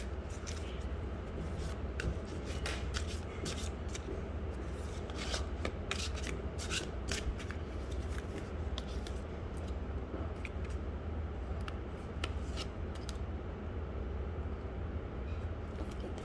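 Tarot cards are shuffled and rubbed steadily for the whole stretch, a soft continuous papery friction with frequent crisp flicks and riffles, close and alone with no talk.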